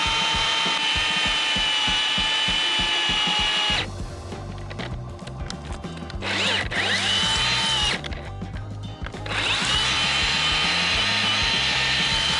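A hand winch is cranked during tree removal beside power lines, giving a loud, rapid ratcheting click, with buzzy mechanical grinding in bursts between the steady clicking.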